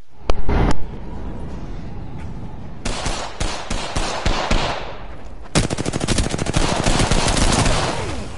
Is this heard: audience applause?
no